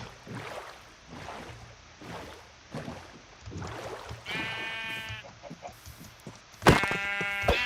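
Two loud, nasal sheep bleats from the video game Minecraft ring out close, the second sharper, over quiet background clicks and game noise.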